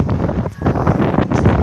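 Gusty wind in San Juan, Puerto Rico buffets the microphone with a loud, rumbling roar that surges and dips unevenly throughout.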